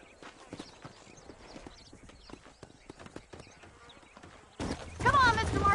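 Horse hooves clip-clop at a steady walking rhythm in the Western video game Red Dead Redemption, with a voice speaking over them before louder ambient noise rises near the end.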